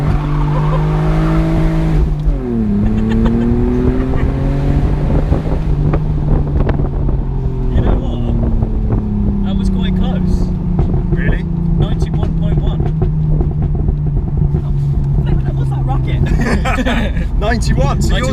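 An Akrapovic-exhausted VW Golf R with DSG gearbox and a straight-piped BMW Z4 rev loudly on private land, engines rising and falling through sharp upshifts with crackles and wind buffeting, while people talk over the roar.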